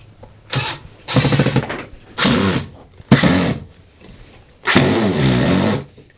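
A power drill with a worn bit drives screws into the frame of a scrap-built farmhouse-style mobile office cart, giving several separate whirring bursts of a second or so each, separated by short pauses, close and fairly loud.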